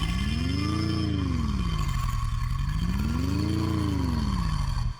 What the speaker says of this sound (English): I love that revving effect.